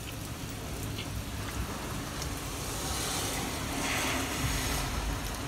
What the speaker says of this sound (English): It is raining hard out here